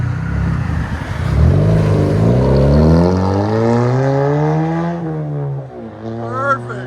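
A straight-piped 2016 Hyundai Elantra with a 1.8L I4 engine and manual gearbox revs up loudly, the raspy exhaust note climbing and holding before falling back toward idle.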